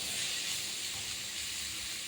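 Snake gourd frying in an uncovered pan over a raised gas flame, a dense, even hiss of sizzling oil that holds steady and close throughout, with no talk.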